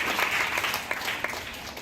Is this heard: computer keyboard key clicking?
no